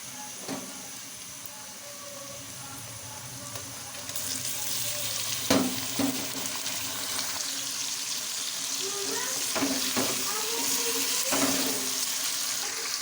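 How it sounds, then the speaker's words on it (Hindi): Washed chicken added to onions frying in a pan for aloo chicken, a steady close sizzle that swells louder as the meat goes in, with scattered clinks and scrapes of utensils and no talking. "अब मैं इसके अंदर ही अपनी वॉश की हुई जो चिकन है इसको ऐड करके इसको भी साथ ही फ्राई करूँगी।"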